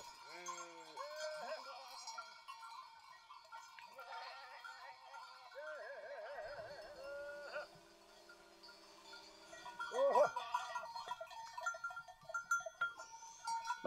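Sheep and goats on a farm bleat again and again, some near and some farther off, with bells clinking now and then. Occasional voices speak in the background.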